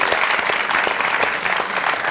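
An audience claps for a university rector during a televised youth-day talk show, with a loud, even wash of applause that stays continuous throughout, no voices over it.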